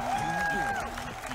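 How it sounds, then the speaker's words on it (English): Tournament crowd at a Tekken World Tour event in Melbourne erupting in cheers and applause, a dense roar sustained throughout the short burst while commentators' voices carry over it. "The crowd erupts."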